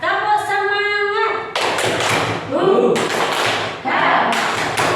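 Students in a classroom perform the 'tepuk semangat' rhythmic group clap, a string of loud, sharp claps and thumps in a chant-like pattern, with voices chanting and talking over it.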